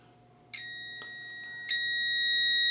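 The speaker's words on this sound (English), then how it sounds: "we'll connect the meter to it. And we should hear it beep." A steady electronic beep tone from a multimeter continuity test on a dryer fuse sounds continuously, with a couple of faint clicks as it starts and shifts slightly, fairly quiet and alone.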